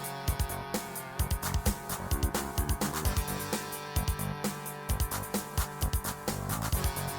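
Battle theme music for the Wyvern fight in the video game Quest for Glory 4 plays, a driving track with punchy rhythmic percussion hits and layered sustained tones throughout.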